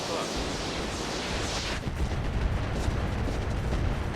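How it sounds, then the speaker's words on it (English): Weapons fire at an Igor mech in the RogueTech battle game, a dense, continuous roar of loud booming blasts and rumble with no clear gaps, close and heavy throughout, thickening toward the end. "We're going to shoot at the Igor, and we could very easily take it down here."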